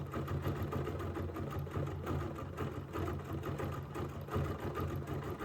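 Sewing machine running steadily while stitching over couched fibers for a quilt design, a continuous close mechanical whir with a low hum, no talk.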